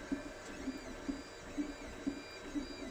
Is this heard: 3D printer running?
yes